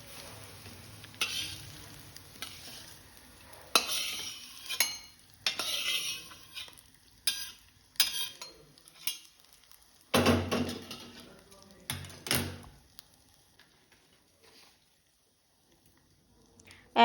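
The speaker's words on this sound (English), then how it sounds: "Now we add this tempering to rice." Ginger tempering stirred into curd rice in a kitchen, with a spoon scraping and clinking in short bursts of stirring, quick sizzle-like scrapes separated by pauses.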